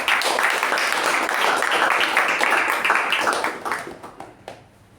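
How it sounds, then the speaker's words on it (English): Sustained crowd applause at a Toastmasters club meeting, dense and steady for several seconds before thinning out and fading near the end. "So with that, big round of applause to Toastmaster Apoorva."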